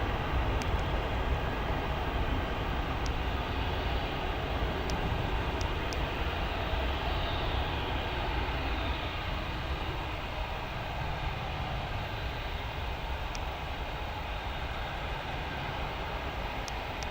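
An aircraft taxis toward the end of a runway at Gatwick Airport, a steady, broad engine roar and whine holding evenly and fairly distant, with faint clicks over it.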